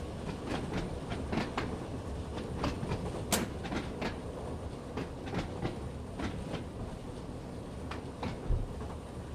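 Train Sim World 2 train running on the Hauptstrecke München line, a steady rolling rumble with regular clickety-clack beats from the wheels passing over rail joints, continuous and moderately loud with no talking.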